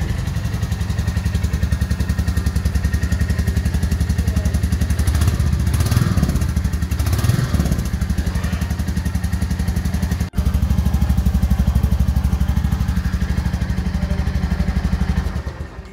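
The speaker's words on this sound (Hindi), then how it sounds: "एक बार मैं आपको स्टार्ट करके इसका साउंड सुना देता हूँ, एक बार आप इसका साउंड चेक कीजिए।" A Royal Enfield Meteor 350 motorcycle in matte black with chrome exhaust idles nearby with a steady, loud low thumping beat, a brief revving swell in the middle and a short break before it settles back to idle.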